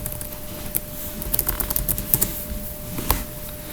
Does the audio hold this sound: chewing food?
no